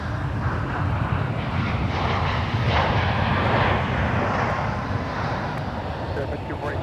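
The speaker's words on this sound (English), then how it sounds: "that Sun Country arrival in the Tide Pod livery is still not the new -9ER" A Sun Country airliner arriving at MSP airport roars steadily, a loud sustained jet rush that swells in the middle and then eases slightly, heard alone without talk.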